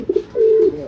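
A racing pigeon coos close by, a couple of short soft notes followed by a longer drawn-out coo, loud and clear with no talk.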